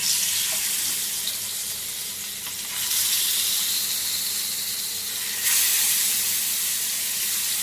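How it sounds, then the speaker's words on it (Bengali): Rohu fish pieces coated with salt, chili and turmeric fry in hot oil with a loud, continuous hiss that surges briefly twice as the frying intensifies. "মাখিয়ে নিয়ে এবার মাছটা ভালো করে ভেজে নেব।"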